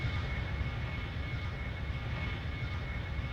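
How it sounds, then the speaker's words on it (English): A steady, loud Boeing 777 jet engine drone from the flight game Extreme Landings Pro fills the whole stretch without a break, heard alone with no talk. "You can hear that the engine's on that side."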